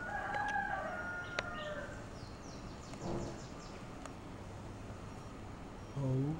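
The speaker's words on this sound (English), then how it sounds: "It was a rooster." A rooster crows at morning in a Nigerian town, its harmonic call rising over steady outdoor background noise in the first second or so, followed by quieter ambient sound.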